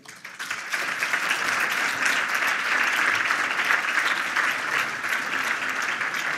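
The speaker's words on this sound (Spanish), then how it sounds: "Un aplauso para Rubén Esteller" Loud, sustained applause fills an awards ceremony hall for an energy-sector prize winner, rising quickly and holding steady throughout.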